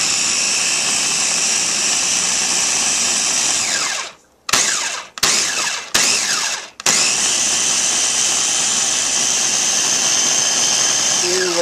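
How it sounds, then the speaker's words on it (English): Ninja Master Prep Pro blender whirring loudly as it blends a green drink, a high steady motor whine that cuts out and pulses in three short bursts midway, then runs on continuously. "now I'm going to hit it for a little bit, see what happens"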